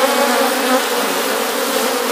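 Honeybees swarm around the body of a crowded beehive, making a dense, steady buzz that stays close and loud throughout, with no pauses and no voices.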